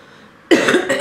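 A single sharp cough from a woman recovering from a bad cold, close and loud, bursting out of near silence with a short rough tail.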